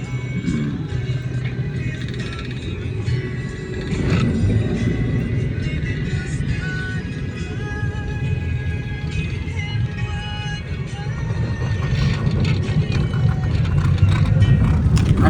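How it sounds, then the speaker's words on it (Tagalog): Steady road traffic near Green Hills, with a continuous low rumble of cars and engines passing close by, occasional louder swells of passing vehicles throughout. "Traffic."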